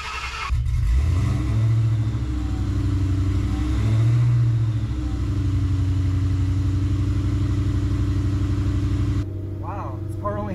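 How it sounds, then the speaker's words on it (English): A steady mechanical whine and hum from a low-mileage car (16,000 miles) running nearby, with a noisy pump droning loudly and unevenly, then cutting down near the end. "Oh, I hear a noisy pump."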